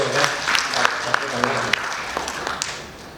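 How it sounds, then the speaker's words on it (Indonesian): An audience claps for Pak Eko at an I La Galigo Bugis cultural event, a moderate patter of hands under a speaking voice, with a few sharper claps popping out before it thins. "Silakan berikan tepuk tangannya kepada Pak Eko ya"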